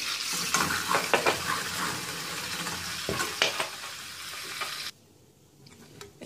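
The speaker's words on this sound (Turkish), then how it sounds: "Yağ eridi. 1 yemek kaşığı kadar nane ekliyorum." Dried mint hisses and crackles in melted butter in a pan while it is stirred, with sharp bursts of sizzle close up and a few scrapes, then the frying drops away suddenly toward the end.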